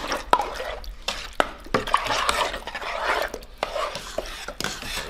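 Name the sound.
dandelion jelly boiling hard in a pan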